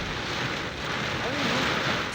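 Heavy rain and wind sweep over a street in Quezon City, Metro Manila, during a flooding downpour, a dense, steady wash of rushing noise that swells slightly toward the end, with no clear voices.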